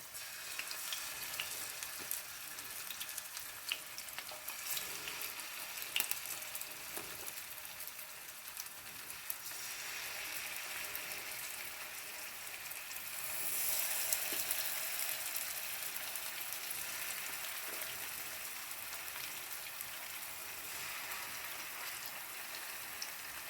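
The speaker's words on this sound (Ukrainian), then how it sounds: "Нагрілася сковорідка з маслом і буду смажити котлети." Meat cutlets fry in hot oil in a pan, giving a steady close sizzle and crackle with small pops that swell slightly midway, with no talking.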